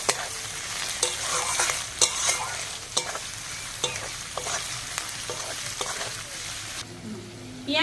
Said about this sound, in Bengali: রসুন পেঁয়াজ ভালো করে ভেজে নেব